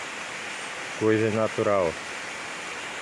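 Waterfall at Serra da Prata, a steady broadband rush of falling water that fills the whole clip, with someone briefly talking over it in the middle.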